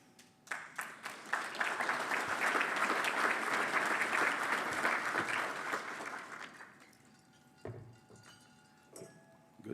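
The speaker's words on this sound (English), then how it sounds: "Good timing on the applause" Audience at a chamber legislative luncheon breaks into applause, a few scattered claps quickly building into loud, dense clapping that holds for several seconds, then fades to stray claps and room noise.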